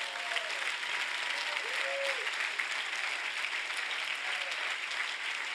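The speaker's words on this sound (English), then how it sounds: "Clap your hands to the Lord here a second." A church congregation clapping hands together, a dense steady wash of applause from a crowd lasting the whole stretch, with a voice singing or calling faintly underneath.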